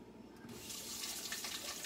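Water runs steadily from a kitchen tap as something is rinsed under it, a continuous hiss and splash that swells after a brief quieter start.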